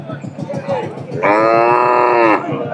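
Cattle moo at a busy Bangladeshi livestock market, one long loud bellow holding steady for about a second near the end, after a stretch of low crowd murmur and distant lowing.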